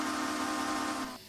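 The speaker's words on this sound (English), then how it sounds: "It's the standard hooter whistle." A steam locomotive's standard hooter whistle sounds in a train simulator game, likely the Duchess of Sutherland engine: one loud, steady, sustained tone held for about a second before cutting off.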